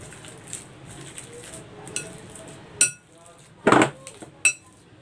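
Boiled banana being mashed in a bowl, with irregular clinks and knocks of utensil against dish, a few sharper taps standing out over quiet background.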